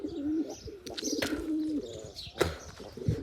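Pigeons in a small backyard loft give soft throaty coos in short repeated phrases, close and fairly quiet, with a brief chirp and light rustling between calls.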